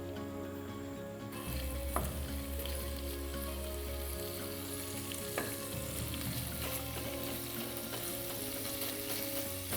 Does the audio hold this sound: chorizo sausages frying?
yes